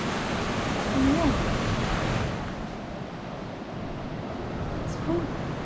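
Ocean surf at Tunnel Beach, New Zealand, roars as a steady broad wash of breaking waves, mixed with gusty wind buffeting the microphone. It is loud and continuous, with no clear talk.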